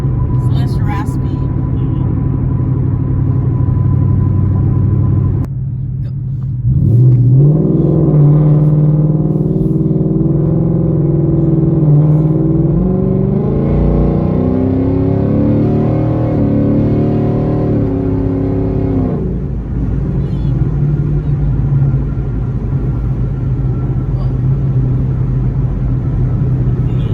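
Deep rumbling exhaust of a 2019 Ford Mustang GT with a Bama tune, swelling as the engine revs and accelerates through the middle stretch, then settling back to a steady drone, with people talking over it.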